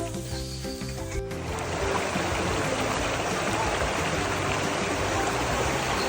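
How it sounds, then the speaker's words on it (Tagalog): A flowing stream beside the forest trail to Guchi Falls in Palawan gives a steady, close, broadband rush of water. It fills most of the stretch without pause after a brief quieter opening. "Yan, may mga batis na tayong nakikita."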